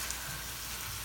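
Meat sizzling and frying in a pan over medium-high heat for Mexican street tacos, a steady, faint hiss with no talk over it.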